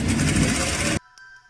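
A sewing machine stitches along the side of a saree fabric in a rapid, loud, even mechanical chatter for about a second, then stops abruptly, leaving near silence and a faint click.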